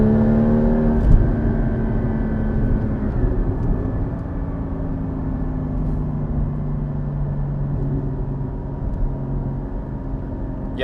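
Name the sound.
Porsche GT4 accelerating on a winter drive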